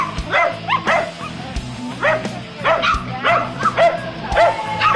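Terriers hunting rats bark and yip in quick, excited bursts, several dogs close by, with rustling and scuffling underneath throughout.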